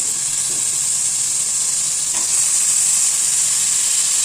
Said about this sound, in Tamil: இதில் சிக்கன் போட்டுக்குவோம்.